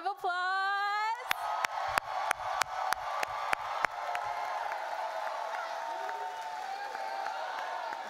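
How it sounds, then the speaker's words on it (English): Audience cheering and whooping at a college recognition ceremony for social sciences and humanities graduates, followed by a burst of sharp claps that fades into a sustained crowd murmur. "Let's give our graduates another round of applause."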